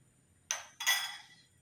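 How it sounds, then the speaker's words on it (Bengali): A spoon clinking against a pot while stirring chicken soup, two quick close metallic taps with short ringing tails in an otherwise quiet kitchen. "এটা দিয়ে আবারও আমি সুন্দর করে একটু নেড়ে নেব।"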